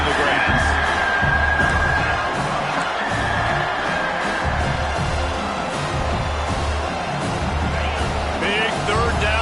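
Stadium crowd at a football game roaring and cheering for the defense on a third down, a loud sustained wall of voices with whoops and no pauses.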